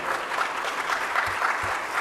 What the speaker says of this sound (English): Can we give a round of applause for Reverend?